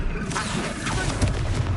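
A Confringo blast spell in the video game Hogwarts Legacy sets off a dense, low booming explosion that rumbles loudly and continuously through the short burst, with no talking.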